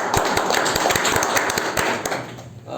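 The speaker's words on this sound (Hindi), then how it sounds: "तो उनके लिए जोरदार तालियां होंगी।" Clapping from a crowd at a Vestige marketing meeting, welcoming four or five first-time attendees: dense, steady, sharp hand claps that fill the whole stretch fairly loudly, easing a little near the end.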